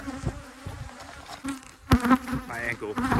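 A swarm of honey bees from a hive buzzes close around a beekeeper, a dense continuous hum with individual bees zipping past loudly, plus brushing and handling noises.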